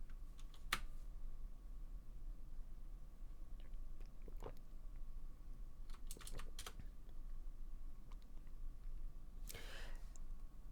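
Sparse, irregular bursts of typing on a computer keyboard, a few scattered keystrokes and short clusters of clicks heard close and quiet against a low steady hum, with no one speaking.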